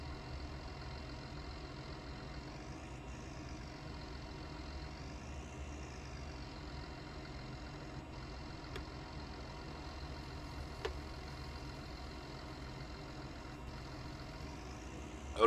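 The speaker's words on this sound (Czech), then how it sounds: "traktor v silážní jámě" A tractor engine idles steadily in a silage pit at a biogas plant in a farming video game, a low continuous mechanical drone with a faint rising and falling whine and a few small clicks.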